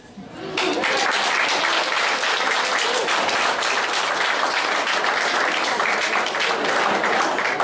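Sustained audience applause at a motivational talk, dense and steady from about half a second in and continuing loud to the end, with no clear talk over it.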